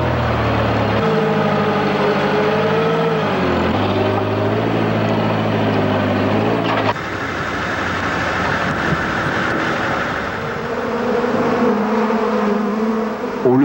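A dense, steady buzzing drone of agitated honeybees from hives unloaded off trucks in California fills the whole clip, a large mass swarming close by, with a low mechanical hum underneath.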